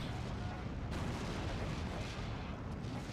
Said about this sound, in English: they're about to get hit by some rather nasty artillery